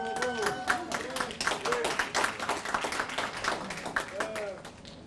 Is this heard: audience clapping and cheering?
yes